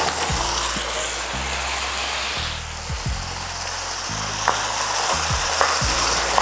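Beef that has soaked in soy sauce sautés in a pan, and a constant sizzle sits under repeated scraping and clacking strokes from a spatula as the meat is stirred.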